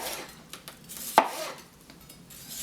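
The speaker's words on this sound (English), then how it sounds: "slice it into lengthwise, and then cut it in half once" A knife slicing a bell pepper lengthwise on a board, heard as a few soft cuts and one sharp close chop near the middle, with light scraping between and no talking.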